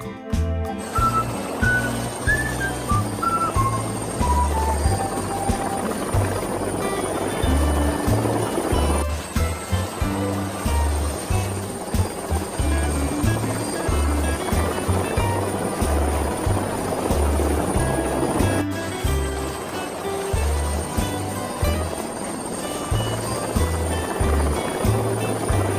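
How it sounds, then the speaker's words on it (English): A helicopter flying, with a steady loud rhythmic rotor thumping and a high turbine whine running throughout, close by and continuous. "It's a helicopter."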